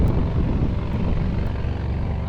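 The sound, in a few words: small boat motoring past on the water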